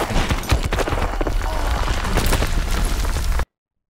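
Loud game combat in Call of Duty WW2 with a grenade explosion among dense bursts of gunfire and booms, continuous and close, lasting about three and a half seconds before cutting to silence.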